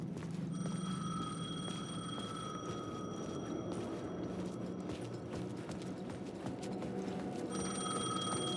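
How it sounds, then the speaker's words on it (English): A payphone rings in Alan Wake 2, a thin electronic trill heard in two stretches, one long and one short, over a steady low ambient hum with no one speaking. "The payphone was ringing."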